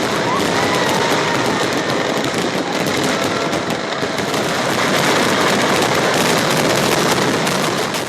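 Thrissur Pooram fireworks display, a loud, dense and unbroken barrage of crackling and popping firecracker bursts that continues without pause from start to end.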